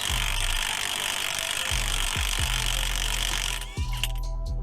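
A tool loosens a tight axle nut on a 2001 Buick Regal, with a steady loud whine and repeated low clunking thuds at intervals, close up, ending in a brief rattle as it lets go.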